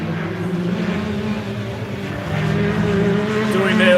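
Race cars, a naturally aspirated Yamaha-engined car and turbocharged rivals, drone loudly around a circuit, the engine note steady then swelling as one closes in, with commentary voices over the top.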